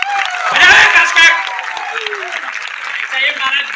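Audience clapping at a business seminar, a dense wash of hands swelling early then holding steady, with a voice speaking over it throughout.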